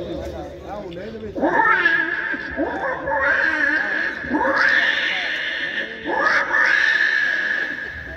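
A man mimics a small child crying, three or four wailing sobs that swell and break, high and strained, close and loud with a steady background hum.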